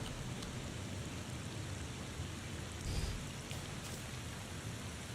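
Continuous rain at a funeral scene in the video game The Thaumaturge, a soft broadband patter on surfaces with a brief low thump near the middle, steady and quiet throughout, with no speech.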